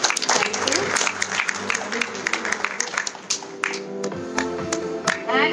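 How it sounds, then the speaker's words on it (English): Loud, dense applause from a large conference audience, many hands clapping continuously with scattered sharper claps. "Can we have a loud round of applause,"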